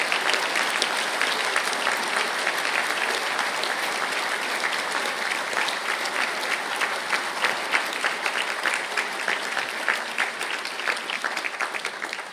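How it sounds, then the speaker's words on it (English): Sustained audience applause for business graduates standing at a university conferring ceremony in Galway, an even, continuous roar of many hands clapping that holds steady for about twelve seconds with no talk. "stand, please, for a round of applause"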